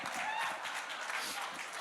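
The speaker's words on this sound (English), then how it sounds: "Clap louder, y'all asked us to." Audience clapping at an IIFA Awards 2024 press conference, a continuous, fairly faint wash of many hands with a few voices mixed in.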